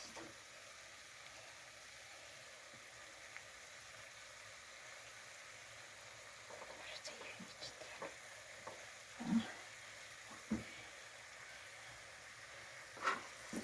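Strudels stewing in a pan give a quiet, steady sizzle and faint hiss, then a few sharper spits and pops near the end.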